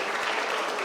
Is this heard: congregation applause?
yes